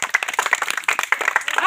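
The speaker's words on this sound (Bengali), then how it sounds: "জোরে করে একটা তালি দাও" A quick burst of hand clapping, dense uneven claps close by with voices mixed in.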